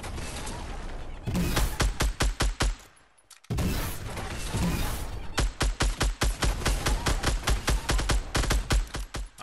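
Rapid gunfire in Fortnite, many loud close shots in quick volleys with a brief pause between bursts, dense and punchy throughout.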